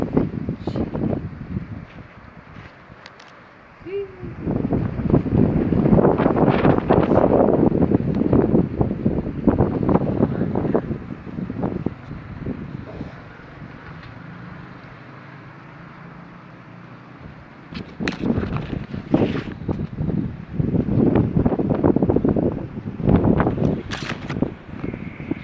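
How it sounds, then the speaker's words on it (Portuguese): A strong wind gale in São Vicente buffets the microphone in heavy rumbling gusts that surge, ease and surge again, loud and close throughout. "ainda ventando"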